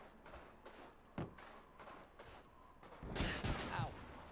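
Gunfire in the Call of Duty 2 deathmatch, with a submachine gun opening up in quick bursts of sharp cracks and a louder, denser volley near the end, over faint background game noise.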